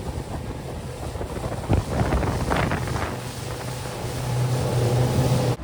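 Outboard motor on a 17'5 Bay Craft skiff cruising at about 26 at half throttle, a steady low drone buried in heavy wind and water rush across open water.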